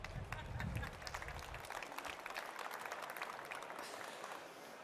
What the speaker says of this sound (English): You're allowed to clap again.